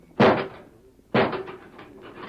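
Two heavy wooden thuds land about a second apart, loud and close like a door slamming or being struck, each trailing off with a short dull rumble.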